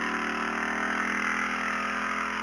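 Motorcycle engine running steadily at a constant mid-pitched idle, loud and close throughout with no voices.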